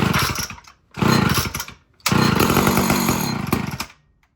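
Chainsaw cold starting before the season, three bursts of engine roar, the first two brief and dying out, the third running a couple of seconds before cutting off, loud and close.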